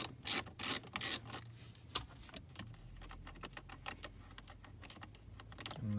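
A 10mm socket wrench on an extension loosens a bolt inside a Toyota RAV4, giving a few quick bursts of ratcheting clicks near the start, then quieter scattered clicks and handling of the tool.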